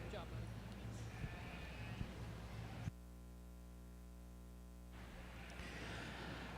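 Sheep at a junior market lamb show bleat in repeated calls, with one loud, sustained, strongly pitched bleat standing out in the middle, while an announcer's voice carries through the arena around it.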